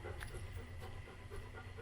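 A dog pants rapidly and faintly after hard play outdoors, a steady rhythmic huffing with no talk.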